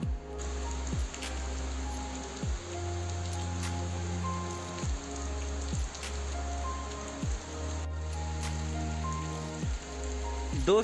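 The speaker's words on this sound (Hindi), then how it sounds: "और बारिश की बूंदें भी आने लग गई हैं" Steady rain patters on a surface in the mountains with a continuous wash of droplets, accompanied by a low droning hum and occasional sharp ticks.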